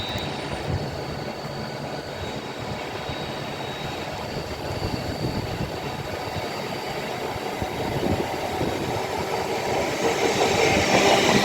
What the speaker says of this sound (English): About to pass by now will be a duo of 805 Averos going to London Euston